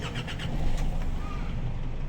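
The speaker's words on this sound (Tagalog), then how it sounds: "Oh, nanginginig yung makina." A Nissan Navara's engine cranks with a few quick rhythmic turns, then catches and settles into an uneven, shaky idle, close by with a faint voice in the background.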